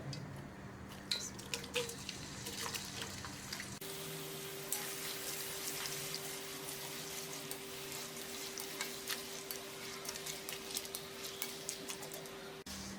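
Chopped onions sizzle in a pan with masala, a faint, steady frying hiss with scattered small crackles over a low background hum, continuing without a break.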